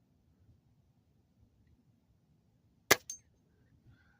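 A Weihrauch air rifle fires a single pellet at a spinner target, giving one sharp crack followed a split second later by a fainter metallic hit, with near silence before and after.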